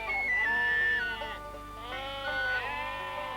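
Merino sheep in New Zealand's Canterbury high country bleat loudly and close, several overlapping wavering calls running continuously with no talk.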